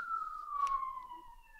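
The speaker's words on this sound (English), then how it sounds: "He heard the ambulance." An ambulance siren sounds in the background of an online chess league broadcast: a single faint, steady wailing tone sliding slowly downward, distant and thin, with no speech over it.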